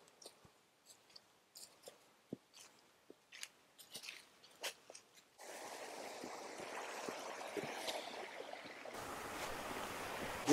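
Soft scattered clicks and taps give way to a steady broadband rush of flowing water that grows louder and continuous near the end.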